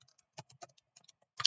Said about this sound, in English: you have to use the buttons on your up and down arrows on your keyboard